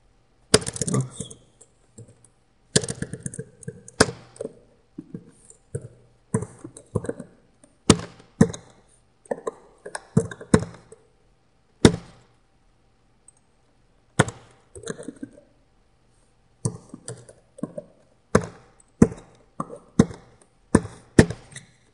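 Someone types code into a C# programming editor on a computer keyboard, with irregular bursts of close, crisp key clicks and short pauses between words.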